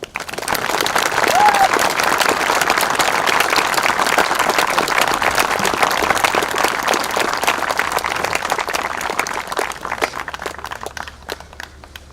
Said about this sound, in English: ask for a big warm round of applause